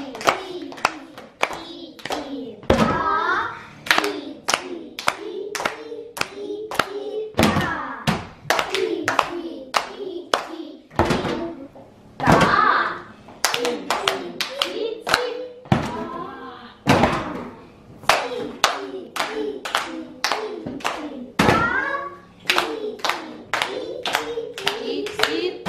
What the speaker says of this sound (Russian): Хорошо, все вместе хлопаем. Ти-ти в ладошки, та по столу.